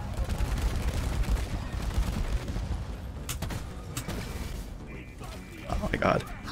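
Rapid gunfire with volatile bullets in Deep Rock Galactic, dense continuous bursts up front that thin into scattered shots and mechanical clanks, with a voice speaking over the action.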